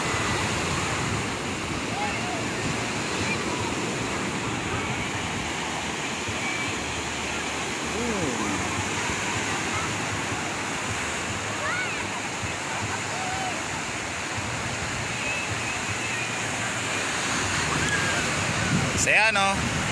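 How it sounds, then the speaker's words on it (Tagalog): Continuous roar of heavy surf crashing and washing at Patungan Beach, Cavite, with wind buffeting the microphone, loud and unbroken throughout. "Lakas ng alon."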